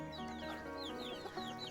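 Chickens cluck and chatter faintly in the background, quick repeated short calls over a steady low hum.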